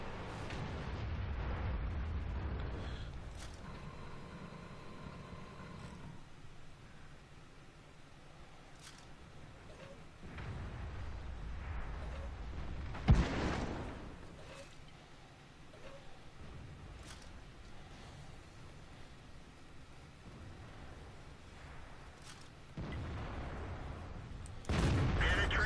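Tank cannon fire in World of Tanks, a medium tank battle: one sharp loud boom rises out of low rumbling engine and battlefield noise, with other dull thuds around it.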